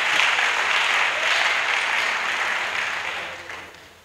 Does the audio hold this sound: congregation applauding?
yes